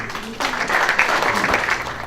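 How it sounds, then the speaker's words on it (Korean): An audience at a Korean painting association founding ceremony breaks into applause, a burst of dense clapping swelling in after a quiet moment and holding steady, moderately loud in a hall. "큰 박수 부탁드립니다"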